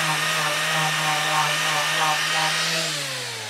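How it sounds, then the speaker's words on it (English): An angle grinder fitted with a sanding disc works over a rusty garden spade, giving a loud, steady motor whine that holds its pitch and then slows and drops near the end as it spins down. "Angle grinder with a sand and disc in it."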